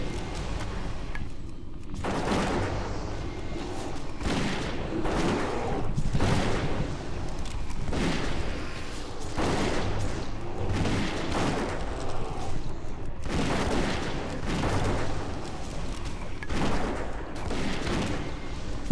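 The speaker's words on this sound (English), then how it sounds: "now here we're gonna start doing lots of multi-shots" Multiboxed hunters in World of Warcraft fire repeated Multi-Shot attacks in the Dire Maul Capital Gardens, a dense, continuous barrage of overlapping booming shots and impacts, loud and steady throughout.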